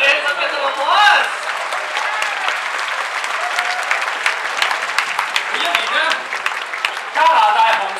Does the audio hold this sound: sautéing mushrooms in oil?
no